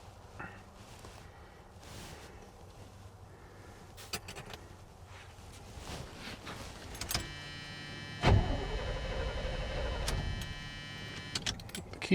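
After some faint rattling at the start, a key turns and the engine of a 1978 K20 truck, which has sat for 15 years, cranks with a steady, loud churning that begins partway through and runs to the end.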